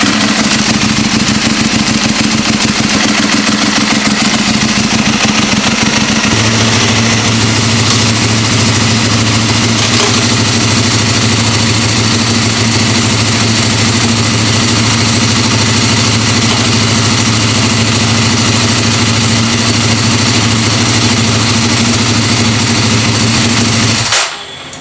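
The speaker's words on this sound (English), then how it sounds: "I freaking love the sound of this bike though." A motorcycle engine idles loudly and steadily up close, fresh from a clutch pack and basket replacement, with a continuous throbbing drone whose pitch drops slightly partway through before it cuts off at the end.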